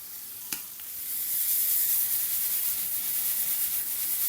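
Onions tipped into hot bacon fat in a pan start a sharp close-up sizzle after a brief clatter, then a steady hissing fry with no talking.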